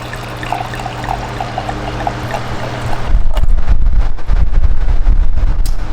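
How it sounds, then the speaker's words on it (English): Wine pours into a glass, a steady liquid stream that turns louder and fuller about halfway through, close and alone with no talk. "Let's pour that wine."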